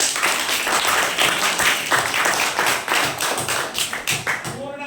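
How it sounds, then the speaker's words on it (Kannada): A classroom of students bursts into brisk, dense clapping, close and lively, keeping an even rhythm for a few seconds before thinning out at the end. "ಚಪ್ಪಾಳೆ."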